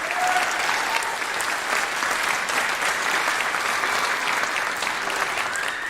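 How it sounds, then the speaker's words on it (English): Sustained audience applause at a high school graduation commencement, a dense, even wash of clapping from a large crowd that holds steady for the full six seconds. "Let's give a round of applause for that."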